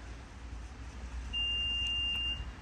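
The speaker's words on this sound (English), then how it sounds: "Now that beep is to say this is the new opening position for the tailgate" A single thin electronic beep, held for about a second, marks the newly set opening height of the power tailgate on a Renault Austral, ringing out over a low steady background hum.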